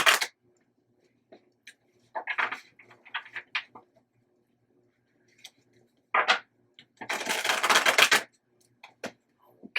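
Tarot cards being shuffled by hand, brief crisp riffling bursts and soft taps separated by quiet gaps, with one longer flurry of shuffling near the end, close and fairly clear.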